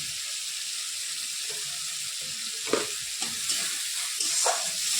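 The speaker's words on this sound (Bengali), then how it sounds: "ভালো করে মশলাটাকে কষিয়ে নেব, যাতে কাঁচা ভাতটা চলে যায়" Spice masala for a home-cooked Bengali dish being stir-fried in a pan, a steady close sizzle with occasional scraping stir strokes, the sharpest around the middle and near the end, and no talking.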